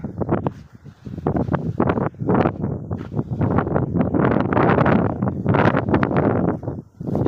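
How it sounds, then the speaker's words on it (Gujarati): Strong gusts of wind buffet the microphone in rumbling, uneven waves, loud and close throughout. "પવન છે ને"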